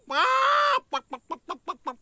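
A hen gives one drawn-out squawk, then a quick run of short, rhythmic clucks close by.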